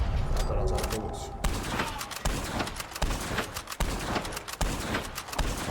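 Rapid gunfire in Red Dead Online: a dense stream of fast shots fired in quick bursts, loud and close, with short pauses between the volleys.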